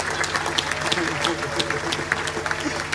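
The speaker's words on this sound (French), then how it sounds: "Acclamez pour ça aussi." An audience at a church testimony gathering claps steadily for three seconds, a dense continuous patter of many hands at moderate loudness, with faint crowd murmur underneath.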